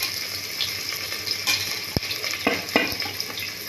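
Onion pieces frying in hot oil for a potato and chana dal curry, a steady close sizzle with a few sharp pops and spatters, no talking.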